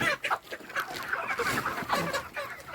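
Chickens on a poultry farm clucking and calling, a dense cluster of overlapping clucks and short squawks nearby, continuous and moderately loud with no talking.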